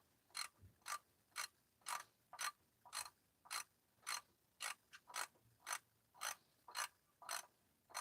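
A ratchet tightening the drain plug on a 2012 Toyota Corolla 1.8 during an oil change: about sixteen crisp, evenly spaced clicking strokes, close and alone with no talk.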